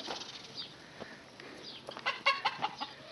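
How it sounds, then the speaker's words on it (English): Chickens cluck and cackle in a shady garden yard, soft scattered clucks building to a burst of louder, sharper cackles near the end, fairly close and without talking. "The chickens are hollering and cackling."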